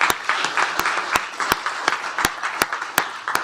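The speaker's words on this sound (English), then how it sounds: "Let's give him a round of applause for 25 years." A county commissioners court audience gives a round of applause honoring an employee's 25 years of service, with a few sharp, close claps standing out over steady background clapping.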